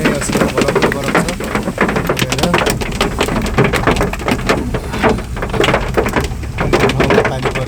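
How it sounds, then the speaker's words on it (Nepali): Heavy rain mixed with falling hail, a dense steady roar peppered with sharp scattered impacts that holds for the whole stretch. "यति धेरै पानी परेको छ कि यति पानी परेको छ।"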